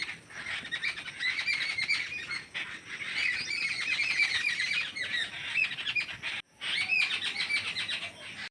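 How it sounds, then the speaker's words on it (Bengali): Birds chirp and squawk continuously around a mango tree in a home vegetable garden, a dense, busy chorus of calls close by, with a brief pause near the end before it resumes. "পাখিগুলো কিচির কিচির করছে।"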